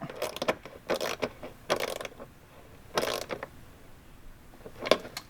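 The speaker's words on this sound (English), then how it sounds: "take your 10mm socket and fully tighten that down" A 10mm socket ratchet tightens a fender flare bracket on a 2024 Can-Am Maverick R, giving several short bursts of rapid clicking separated by brief pauses, close and moderately loud.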